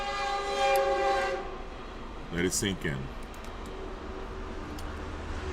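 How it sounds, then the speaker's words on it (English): A train passes at a distance, sounding a long tonal horn and then a few short blasts over a steady rumble, while someone speaks briefly over it. "You hear the train passing"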